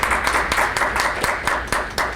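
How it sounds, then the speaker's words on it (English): Applause from a small audience at a coffee-hour entrepreneurship clinic event, a steady patter of hand claps throughout, moderately close with no talk over it. "let's give a round of applause"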